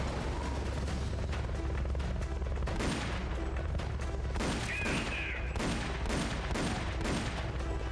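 Repeated gunfire from a shootout in the video game Metal Gear Solid: Peace Walker, with dense bursts and volleys of shots over a constant rumbling background, loud and continuous throughout.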